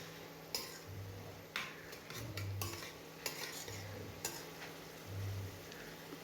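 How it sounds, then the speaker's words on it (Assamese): Ground spices frying in oil in a pan for a breakfast dish, stirred repeatedly with a spoon that scrapes and taps the pan at irregular intervals over a soft sizzle, close and steady. "মছলাখিনি ভালকৈ ভাজ নোখোৱালৈকে লৰাই লৰাই ভাজি থাকিম।"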